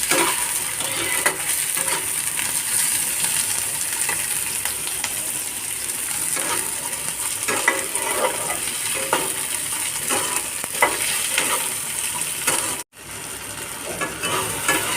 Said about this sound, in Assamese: এতিয়া এইখিনি অকণমান ভাজি ল'ম।